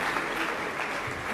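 An audience claps steadily in a brief, dense burst as a musician takes the stage at a public speaking event.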